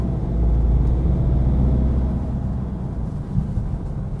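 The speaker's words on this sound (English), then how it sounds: "the diesel sound from the inside is almost not noticeable" Low, steady rumble of a 2014 BMW 328d turbodiesel heard from the cabin, a smooth muted drone with faint engine hum under road noise, no voices.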